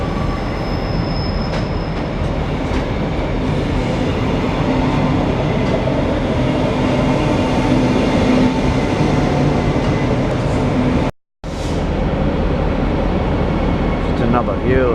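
A diesel tilt train, the Brisbane–Rockhampton Tiltlander, rumbles steadily with wheel noise and faint squeals, with voices talking over it throughout and a momentary drop-out near the end.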